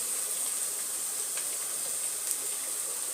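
Onions sauté in a pan, a constant bright hissing sizzle with little variation and a couple of faint soft ticks, no voices.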